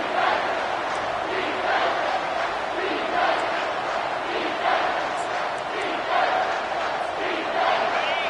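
A stadium crowd in an American football video game roars continuously, a dense steady wash of cheering and shouting with small swells, loud and unbroken throughout.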